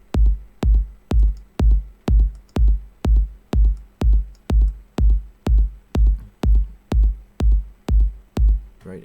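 Kick drum run through a Waves C4 multiband compressor, a steady four-on-the-floor pattern of about twenty punchy, booming hits in nine seconds, each swelling evenly with no talking.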